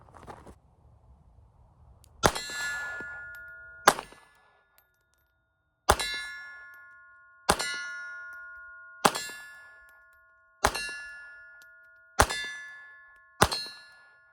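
Small .32 ACP rounds from a Beretta Tomcat pistol strike a steel silhouette target at 25 yards, giving seven evenly spaced sharp metallic rings, each decaying quickly, with quiet range noise between them.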